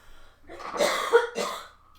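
A single close, harsh cough with a short follow-up burst, quiet and alone.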